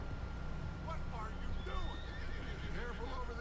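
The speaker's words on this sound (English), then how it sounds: "Use R1 to slow your horse down." A horse whinnies in the Red Dead Redemption 2 video game, with a couple of quick, fairly quiet neighs and hoof clip-clops over a steady low background rumble.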